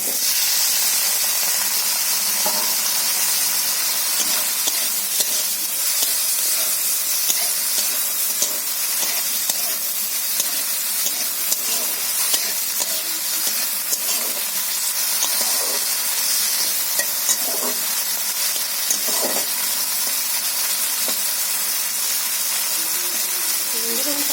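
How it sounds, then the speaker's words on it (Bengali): Potatoes and eggplant frying in oil in a wok, a continuous dense sizzle and hiss holding steady throughout, with faint scraping clicks and no voices. "তো বন্ধুরা আমি আলু বেগুনটা ভেজে নেব।"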